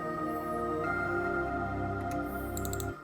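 Song intro built from two pads and two synths layered into a soft, sustained wash of held chords, quiet and steady with faint shimmering high accents near the end.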